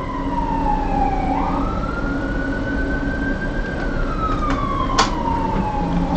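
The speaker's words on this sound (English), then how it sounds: "Sirens happen all over the place." A wailing emergency siren rises and falls steadily over constant traffic rumble, fairly close and loud, with a brief sharp clatter near the end.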